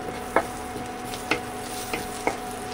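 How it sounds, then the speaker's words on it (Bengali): Crushed garlic frying in melted butter in a pan, a steady soft sizzle with a few light stirring clacks spaced about a second apart, close and fairly quiet with no talking. "এখানে বাটার দিয়েছি 3টে, আর এর মধ্যে এখন আমি দেব সামান্য গার্লিক একটু থেতো করে।"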